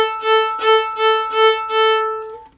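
A fiddle bows a reel rhythm pattern on a single open string, five clear, evenly spaced bowed pulses on one sustained pitch, close and alone.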